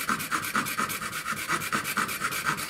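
Hand saw cutting through bone for a mandolin saddle, clamped between scrap MDF pieces, giving a close, rapid rasping rhythm of even back-and-forth strokes, about four per second, with no talk.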